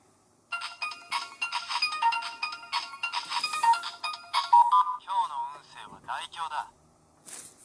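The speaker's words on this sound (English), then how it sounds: "And we have another call to take." A Kamen Rider Geats DX Spider Phone toy plays its electronic ringtone jingle, a bright looping melody heard close and loud, followed by chirpy synthetic voice effects.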